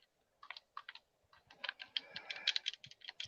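Video game controller buttons click and clatter in quick irregular bursts, close to the microphone, sounding much like rapid typing, with no talk over them.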